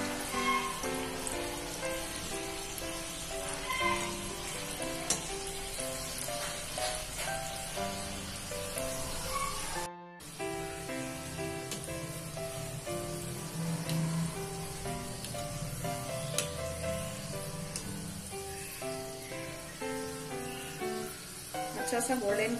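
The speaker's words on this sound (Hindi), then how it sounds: "धीमी आंच पे ही तलना है।" Lilva kachori stuffed with pigeon peas deep-fry in oil over a low flame, a steady soft sizzle running continuously beneath background music.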